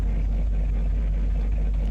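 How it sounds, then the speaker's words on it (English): A car's overly loud exhaust in Car Mechanic Simulator 2021, a continuous deep engine rumble droning steadily and close throughout. "it sounds like the exhaust needs doing"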